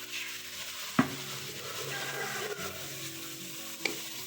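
Chicken with red chilli, turmeric and salt fries and sizzles steadily in a pan for a jalfrezi, stirred with a spoon, with a couple of sharp scrapes against the pan.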